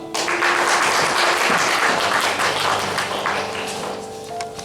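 Loud, sustained audience applause welcoming a company CEO on stage at a startup investor-relations seminar, dense clapping that tapers slightly toward the end.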